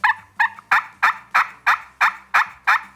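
A push-pin turkey call imitating a hen turkey's yelp: nine evenly spaced, sharp, raspy yelps in quick succession, close and clear, with no talking.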